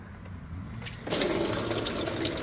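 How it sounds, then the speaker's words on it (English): Oil and water gush out of a flooded Rocky Ridge Ram truck, a steady splashing pour that swells suddenly about a second in and then runs on loud and continuous. "Let the water drain."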